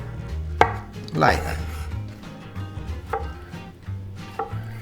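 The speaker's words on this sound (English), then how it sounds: "you cut it, and you make a cube." A knife cuts a seeded tomato into cubes on a board for pappa al pomodoro, giving a few sparse, close chopping knocks spread apart, with a brief muttered voice in between.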